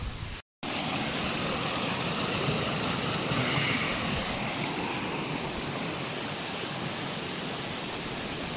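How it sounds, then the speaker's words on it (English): Heavy rain pours down steadily on a tipi tent at a winter wild camp near Pontsticill Reservoir, a dense continuous hiss broken only by a brief silent gap near the start. "We've bundled in the TP now because it's chucking down."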